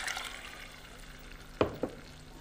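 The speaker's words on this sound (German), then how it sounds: "Kräftig umrühren und während dem Kochen vom Risotto immer ein bisschen Bouillon dazugießen, damit der Risotto nicht vertrocknet." Porcini mushroom risotto cooking with bouillon in a pan, a quiet low simmer with faint bubbling, broken near the end by two sharp scraping knocks of a spoon stirring.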